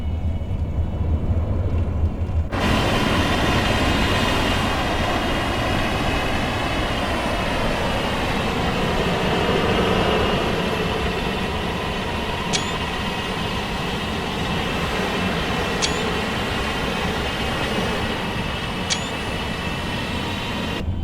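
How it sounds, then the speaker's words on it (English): A Class 43 HST network measurement train in Train Sim Classic, on the West Coast Main Line between Birmingham and London Euston, rumbles past with a loud, continuous roar and rising engine drone, broken by a few brief high squeaks. "so class 43 HST it is as well. And it is the network measurement train."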